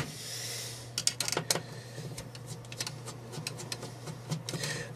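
Screws being removed from a Panasonic NV-HS900B VHS video recorder during a teardown, heard as a cluster of sharp metallic clicks and small clatters over a steady electrical hum, fairly quiet and close.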